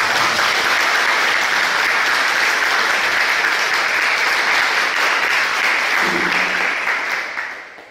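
Steady, loud audience applause welcoming a presenter at a Buddhist academic conference, sustained continuously and fading out at the very end.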